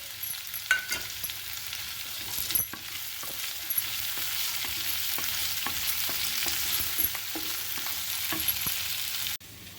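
A dried red chilli and a green chilli fry in hot oil for a fenugreek kuzhambu, giving a loud, steady sizzling hiss with scattered spatula taps and scrapes, ending abruptly.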